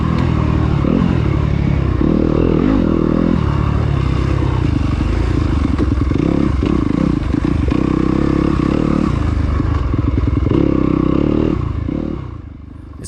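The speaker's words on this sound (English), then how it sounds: "there's 120 bikes racing the same trail" Dirt bike ridden along a wooded enduro race trail in Byhalia, Mississippi, its engine droning and revving steadily close by with clattering and scraping over rough ground, easing off at the very end.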